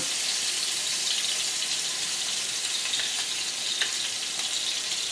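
Lamb chops hit a hot pan of avocado oil and break into a loud, steady sizzle. The crackle stays dense and even from start to finish, with a few sharper spits and pops.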